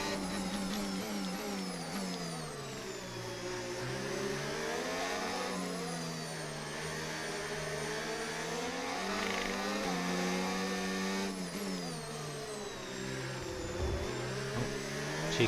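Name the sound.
F1 car engine racing in F1 25 video game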